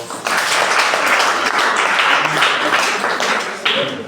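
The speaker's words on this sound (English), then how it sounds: "a round of applause for" Applause for a guest author visiting a school, a steady wash of clapping from students that starts sharply, holds loud and even, swells once more near the end and then eases.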